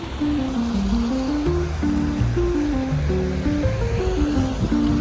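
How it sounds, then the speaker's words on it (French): A river flows under a building in a Breton town, beneath a Crédit Agricole bank, on a rainy day. Water rushes in a steady broad wash with a faint melodic line playing over it. "il y a une rivière qui passe sous le bâtiment."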